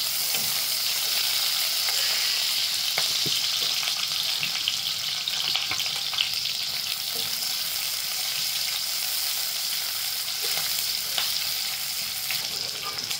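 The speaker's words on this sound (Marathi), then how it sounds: "आता याच्यामध्ये कांदा परतून घेऊया चांगला" Chopped onion sautéing in a pan with whole spices such as cinnamon pieces, giving a steady, loud, even sizzle that runs throughout, with occasional soft stirring clicks.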